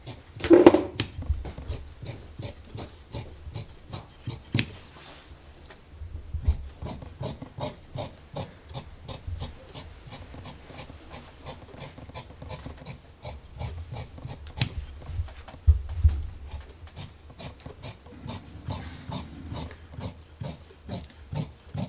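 Sewing scissors slice through fabric along a chalk line while pants are cut out, giving a long run of sharp, regular snipping clicks close by with no talk.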